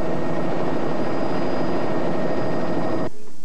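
A news helicopter flies over a 1993 Missouri flood, giving a steady, broad rotor and engine roar that carries on loudly and evenly before cutting off abruptly near the end.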